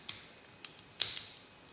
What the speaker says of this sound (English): Good spring-loaded scissors.